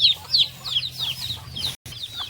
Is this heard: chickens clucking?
yes